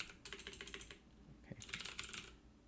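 Rapid clicking keystrokes on a computer keyboard come in two bursts of close, crisp taps separated by a short pause, with no voices.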